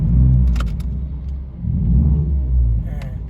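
A Ford Focus MK3 engine fitted with an electronic throttle controller revs up close by, with the throttle pressed, then eases and builds again in a deep surging rumble, with a few brief clicks over it.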